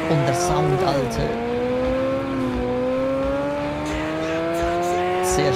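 Revving motorcycle engine in the Cyberpunk 2077 video game, a loud sustained whine that drops sharply near the start, then climbs slowly and steadily as the bike accelerates.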